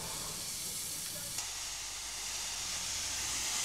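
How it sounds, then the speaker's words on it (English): Lambton, Hetton and Joycey colliery engine No. 5, a 1909 Stephenson steam locomotive on the North Yorkshire Moors Railway, hisses softly and steadily as it waits to depart; the sound is faint and continuous. "Hetton and Joycey colliery engine, built by Stephenson in 1909, prepares to depart from Gromont"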